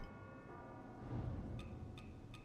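A bell rings in Wuchang: Fallen Feathers, a sustained tone with a few short, bright strikes near the end, faint and alone.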